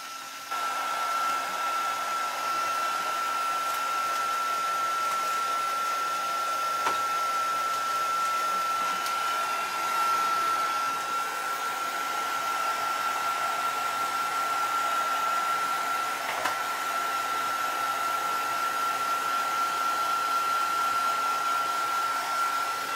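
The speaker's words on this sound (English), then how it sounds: "I'm going to heat set this a little bit because I want it to be dry." A heat tool runs steadily and loudly to heat-set and dry freshly stamped craft ink, giving a continuous whirring blow with a high whine that holds for the whole stretch with no talk over it.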